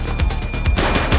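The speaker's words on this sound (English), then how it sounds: "He's shooting!" Rapid bursts of gunfire crack in a police shootout inside a video game, several quick shots in an uneven rhythm, loud and close, with no talking over them.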